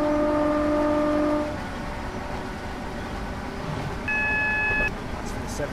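A speed warning beep sounds in a train cab in Train Simulator 2022 on the London–Faversham high speed line. One long tone is followed a few seconds later by a shorter, higher beep over steady train rumble.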